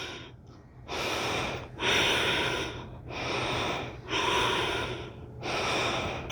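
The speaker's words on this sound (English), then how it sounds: "Breathe, Ujjayi breathing, right from pelvic floor. Slight constriction in the glottis of the throat." Ujjayi breathing in a yoga class, made with a slight constriction of the throat: five or six long, loud, airy breaths, close and rhythmic, each separated by a short pause, with no talking.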